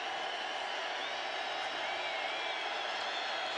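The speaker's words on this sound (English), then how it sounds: "Third and 5, and the crowd is vocal." An NFL stadium crowd at a 49ers–Falcons game makes a steady, vocal roar, a constant wash of many distant voices without distinct peaks, fairly quiet overall.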